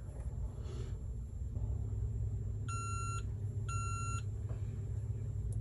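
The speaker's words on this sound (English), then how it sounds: "once it's done, you'll hear a couple of beeps and then it will internally upgrade." A Schlage MT20w access card reader gives two clear electronic beeps about a second apart while its firmware installs, sounding over a steady low background rumble.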